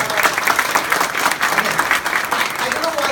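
A roomful of people at a professional talk event applauds in a brisk, fairly close burst of clapping, with some voices mixed in.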